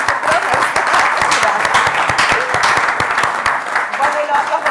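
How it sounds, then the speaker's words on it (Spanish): Steady, fairly loud audience applause at a university science café talk, many hands clapping at once in a continuous patter, with some voices murmuring under it. "Un aplauso para ella también."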